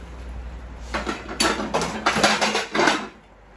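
A plate is picked up and handled while spaghetti with cream cheese sauce is served, giving a close series of ceramic clinks and clatters in quick, irregular bursts against a quiet kitchen background.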